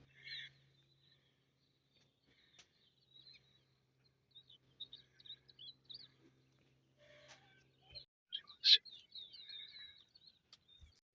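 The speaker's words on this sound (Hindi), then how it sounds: "सुबह सुबह आप लोगों को चेक करो, ये चिड़ियों की चुन चुन। इस दरख्त पर बेरी पर बैठी हुई भी।" Small birds chirp in a jujube tree in a village in the early morning, faint scattered chirps over near silence, with no talking.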